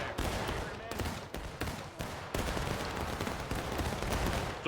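Musket fire crackles through a Civil War video game battle, dense overlapping volleys and scattered shots forming a continuous loud rattle with brief gaps.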